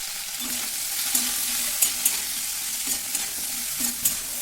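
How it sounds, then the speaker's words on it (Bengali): Cauliflower frying in oil with turmeric and salt sizzles steadily and loudly, with regular light stirring scrapes against the pan throughout. "পরিমাণ মতন হলুদ লবণ দিয়ে আমি ফুলকপিটাকে ভালো করে ভেজে নিচ্ছি"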